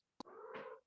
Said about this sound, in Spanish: Y la tengo a mi gatita que está llorando.